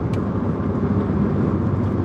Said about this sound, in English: it sounds like we got a single prop airplane on here